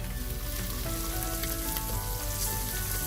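Onions frying and browning in a pan, a loud, even sizzle that runs unbroken for a few seconds, close up, with a faint tonal hum underneath.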